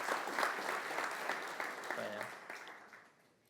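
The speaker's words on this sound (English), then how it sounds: "I would like to have a warm round of applause for Paul." Audience applause at a Dutch biotech conference keynote, a loud burst of clapping from the crowd that gradually fades out over a few seconds.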